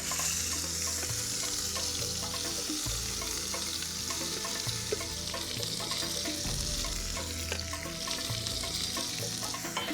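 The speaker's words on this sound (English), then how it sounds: "you fry it before applying it to the meat." A spice paste for tacos sizzles and crackles steadily in a hot pan, with occasional stirring scrapes and no talking.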